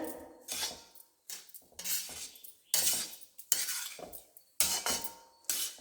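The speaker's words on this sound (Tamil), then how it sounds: "இப்போ நல்லா கலக்கி விட்டுடலாங்க." Vegetable fried rice with beans, carrot and onion shoots is stirred and tossed in a pan, giving repeated bursts of scraping and metal clatter separated by short pauses, close and fairly loud, with no talking.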